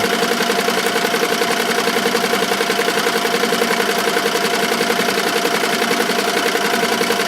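A commercial embroidery machine stitches a design of about 7,000 stitches onto a 100% cotton t-shirt, giving a steady, loud rapid mechanical chatter with a fast even rhythm, running alone and unbroken throughout.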